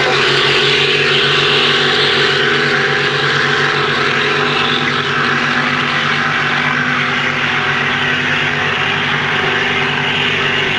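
Racing boats with 550-horsepower engines roar past together at a race, a loud continuous engine drone with deep rumbling tones that holds steady throughout without pause.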